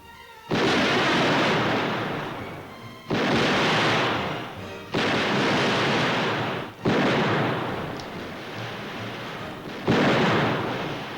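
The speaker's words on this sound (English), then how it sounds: "This is the first half of time fire. 5 shots in 20 seconds." Rifle shots on a shooting range during timed fire, five loud booming reports spaced about two seconds apart, each ringing out and decaying before the next, with no talk in between.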